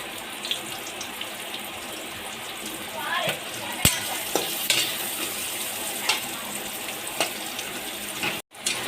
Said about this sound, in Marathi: याच्यामध्येच ना आपण हा कांदा डायरेक्ट भाजून घेऊया।